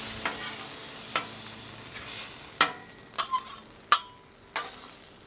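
Diced chipotle and adobo sauce cook on a Wildfire griddle. A low sizzle runs under a series of sharp, irregular metal spatula scrapes and taps, heard close with no talking.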